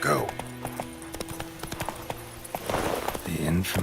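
Roach the horse in The Witcher 3 clip-clops along with steady hoofbeats, faint in the mix under someone talking and game sounds, a louder rustle of movement rising near the end.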